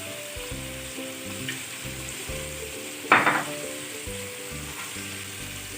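Chicken steak sizzles in olive oil in a pan, a steady close frying hiss with a brief louder burst of crackle midway, no voices.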